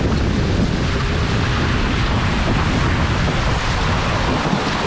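Strong wind gusts roar over the microphone while an RS600 dinghy sails on open water, a loud, steady rush of buffeting noise and water sounds throughout, with no talking.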